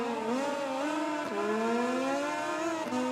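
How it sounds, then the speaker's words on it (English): MotoGP 20 racing motorcycles rev at the start of a ten-lap race at the Sachsenring in Germany, a loud, steady engine whine rising in pitch with two quick gear-change dips, no talk. "here's Stone revving up then at the start here in Germany"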